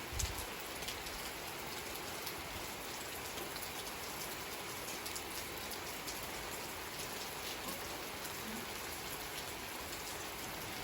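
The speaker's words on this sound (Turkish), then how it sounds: "Gider ayak yağmur da yağdırdık arkadaşlar valla. Ne güzel yağıyor." Steady rain falls in a village, a dense, even hiss of drops on surfaces holding at the same level from start to finish, with no voices over it.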